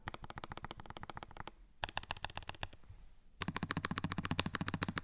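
Rapid mechanical keyboard modifier keys on a Lofree Flow Lite clack in quick bursts, a steady rhythm of crisp taps broken by short pauses, close and fairly loud.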